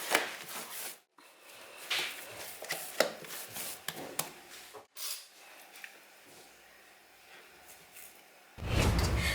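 Soft dough for Turkish buns being cut and divided into balls on a work surface, with scraping, tapping and light chopping knocks in an irregular rhythm, close and fairly quiet, ending in a short louder rub.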